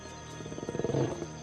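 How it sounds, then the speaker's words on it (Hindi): A wild jackal's roar rises as a loud, close growl with rough pulsing bursts, swelling toward the end and then tapering off, with no talk over it. "इनकी दहाड़ 8 किलोमीटर से भी ज्यादा दूर तक सुनाई देती है"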